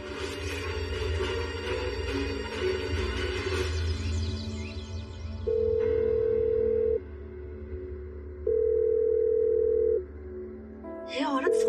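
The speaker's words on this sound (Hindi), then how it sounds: "फोन क्यों नहीं उठा रही है?" A phone rings out with no answer, a few long repeated electronic tones sounding over a droning background, clear and steady with no one speaking.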